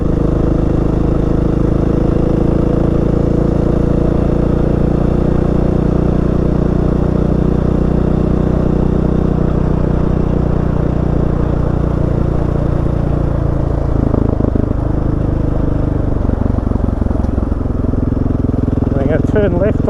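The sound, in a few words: motorcycle accelerating on a track, throttle opened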